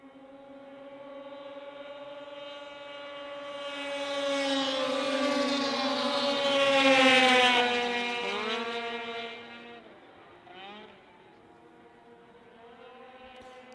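Racing snowmobiles at the Canadian Power Toboggan Championships scream down the back straightaway, their high engine whine swelling loud as they pass and then dropping in pitch and fading into the distance.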